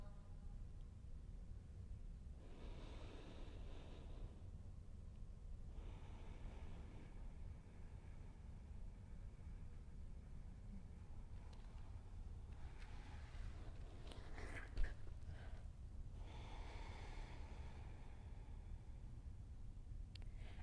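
Slow, deep yoga breaths are taken in a studio, several soft whooshing inhales and exhales spread evenly across the clip over a low steady room rumble.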